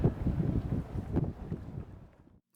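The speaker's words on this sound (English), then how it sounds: "Still windy, man." Gusty wind buffets the microphone aboard a boat moored on a buoy, in uneven low rumbling bursts, loud at first and easing off before dropping to near silence.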